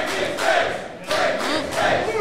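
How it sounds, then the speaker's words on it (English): A wrestling crowd in Bateman's SoCal hometown chants rhythmic war cries in repeated loud swells, a dense roar of many voices rising and falling about once per second. "Hear those war cries from the audience echoing for Bateman a little earlier."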